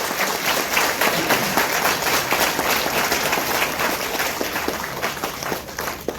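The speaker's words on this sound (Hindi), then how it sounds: "एक बार सभी एक दूसरे के उत्साहवर्धन में तालियों की गड़गड़ाहट कर रहे हैं।" Thunderous applause from a large audience at a Vihangam Yoga spiritual gathering, a continuous, dense roar of clapping that holds steady for several seconds with no talking over it.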